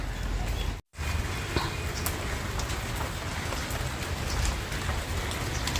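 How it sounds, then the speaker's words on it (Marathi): Steady rain pours down, a dense continuous hiss of drops on surfaces, broken once by a momentary cut in the sound. "पावसाची पुरपुर आता थोडीफार कमी झाली आहे"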